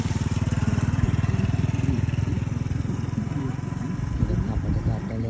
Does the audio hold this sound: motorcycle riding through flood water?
yes